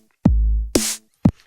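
A simple programmed beat of kick and snare: a booming kick, a noisy snare crack, then another kick, three dry hits, clean and alone.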